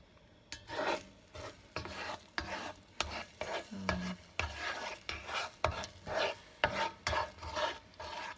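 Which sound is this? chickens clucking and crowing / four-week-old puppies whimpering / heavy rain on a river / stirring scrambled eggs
stirring scrambled eggs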